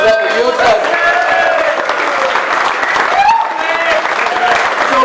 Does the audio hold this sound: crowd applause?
yes